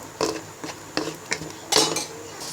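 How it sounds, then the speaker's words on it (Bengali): A spatula clinks and scrapes against a pan as tuna with green chillies, salt and spices is stir-fried, in several short, distinct metallic knocks spaced about half a second apart, close and fairly loud. "এবার পরিমাণ মতো লবণ দিয়ে আমরা টুনা ফিশ এবং মশলাটাকে কষিয়ে নিব"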